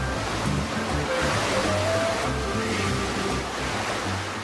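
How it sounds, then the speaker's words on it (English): Computer-generated artificial surf in the indoor Ocean Dome wave pool, filled with chlorinated, salt-free water, a continuous broad rushing wash of breaking waves with low rumbling swells, steady and fairly loud. "A computer-controlled system produces cookie-cutter waves big enough to surf"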